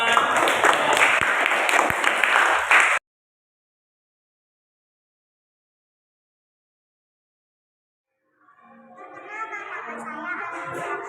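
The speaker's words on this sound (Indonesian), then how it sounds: "Oke, tepuk tangan untuk kita semua" A school class bursts into loud, dense clapping for about three seconds, which cuts off abruptly into silence; after a long pause, children's voices rise faintly.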